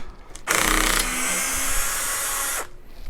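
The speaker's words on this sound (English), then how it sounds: "I set the clutch pretty low on the drill so I don't round over any screw heads or split any wood" A cordless drill with its clutch set low backs screws out of the wooden back plate of a Mesa/Boogie California Tweed 6V6 guitar amp on a kitchen table, whirring loud and steady for about two seconds before stopping.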